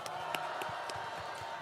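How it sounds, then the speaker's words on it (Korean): Crowd applause and cheering at an outdoor political rally in Gwanghwamun, Seoul, welcoming a young speaker to the stage; steady clapping with a few sharp claps and a murmuring crowd underneath, continuous and moderately loud. "큰 박수로 모시겠습니다"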